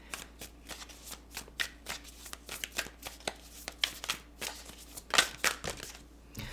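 Tarot cards being shuffled by hand at close range, a quick run of crisp riffling flutters and soft slaps repeating in bursts throughout, with no voices.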